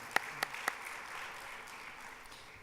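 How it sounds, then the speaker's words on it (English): A hall of guests at a university graduation ceremony gives a round of applause. A few sharp, loud claps come right at the start, then the clapping settles into an even, moderately faint wash that carries on to the end. "If you can just join me in giving a round of applause to Janos, Krunal, Bibin, Magavi, Aaron, and"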